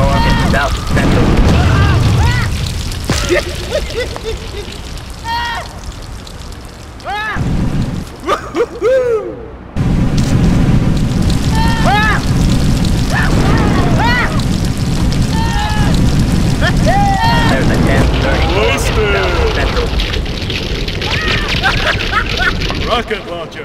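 Rocket launcher explosions in GTA2 multiplayer on the DeCon Labs map, a dense, loud, continuous rumble of booms with a brief gap partway through, while people talk over it.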